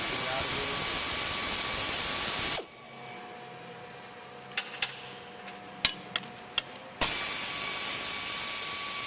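Air ratchet backing out 14 mm bolts on a 1997 Toyota Tacoma manual transmission during clutch replacement, heard as a few short sharp bursts and clicks amid a quieter gap between steady loud hissing air.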